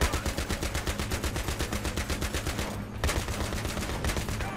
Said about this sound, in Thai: ยิงอะไรวะ ยิงอะไรกันเนี่ย